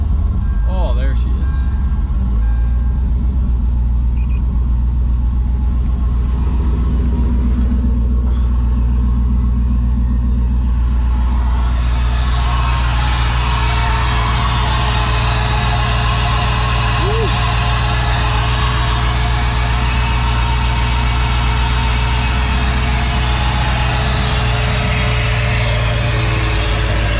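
LS V8 swapped into a Hyundai Genesis Coupe idling steadily with a deep continuous rumble, which grows fuller and louder partway through.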